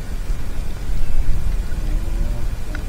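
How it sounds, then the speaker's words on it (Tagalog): Rain falls steadily outdoors around a fishing boat with a net full of catch, a dense close patter with low rumbling underneath. "Umuulan kasi mga kani oh. Umuulan dito kami."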